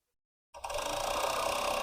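After a moment of silence, a sewing machine starts up and runs with a steady close mechanical whir, in need of an oil change.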